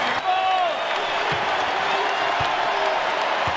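Crowd roar fills a basketball arena in Knoxville as Tennessee plays Florida, a steady loud wash of cheering and whooping from a big home crowd after a slam dunk, with a commentator talking over it.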